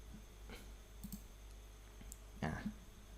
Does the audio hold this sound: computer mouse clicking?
yes